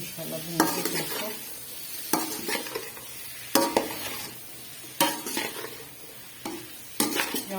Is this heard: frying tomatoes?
yes